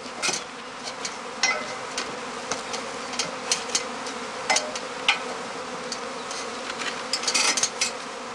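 A honeybee swarm hums steadily around a straw skep set on house eaves at a German apiety hive site, a dense, continuous buzz broken by brief louder passes of individual bees close by.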